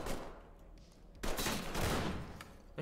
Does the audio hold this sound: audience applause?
no